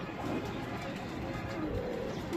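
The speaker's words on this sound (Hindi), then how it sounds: "मोतियों वाले कबूतर का शौक़ करें" Pearl-eyed pigeon cooing near, soft low coos running through a steady noisy background for a couple of seconds.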